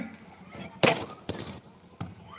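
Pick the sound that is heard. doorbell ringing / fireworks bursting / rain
fireworks bursting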